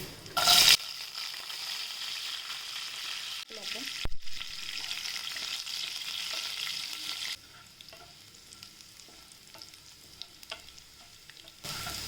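Garlic fries in hot oil with mustard seeds and cumin, giving a loud crackling sizzle that starts with a sharp burst, settles into steady frying with occasional stirring scrapes, then quietens.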